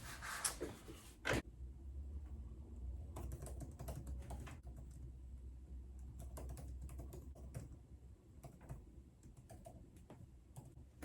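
Steady clicking of keys typed on an iPad Pro keyboard in a quick, uneven rhythm, close and fairly soft, continuing for several seconds with a few louder taps.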